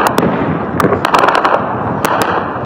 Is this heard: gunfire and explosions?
yes